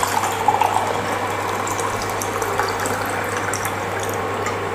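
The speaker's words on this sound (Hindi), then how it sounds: "और पानी भरो।" Water running steadily into a container, a continuous rushing, splashing fill at close range with no breaks and no voices.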